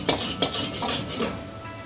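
Rice, shrimp and chicken stir-fried in a pan: a continuous sizzling hiss broken by several clinks and scrapes of a utensil against the pan.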